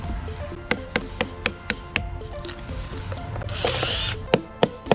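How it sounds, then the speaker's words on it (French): Wood chisel struck into timber after a row of close-drilled holes, repairing a sailboat rudder: a series of sharp, regular knocks about every half second, close and fairly loud, with a brief scraping rustle near the end. "on fait des trous comme ça, le plus rapproché possible de là où il faut découper. Et on termine au ciseau à bois"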